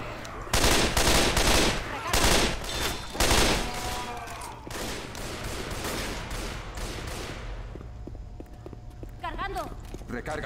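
Rapid bursts of gunfire from a weapon in the zombie shooter Left 4 Dead 2, loud and close, in clusters over the first half, then fading to game ambience with talk in the background.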